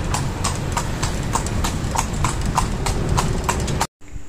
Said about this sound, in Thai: นั่งรถม้าชมเมืองเสียงฝีเท้าม้าดังก๊อกแก๊กก๊อกแก๊กสนุกดี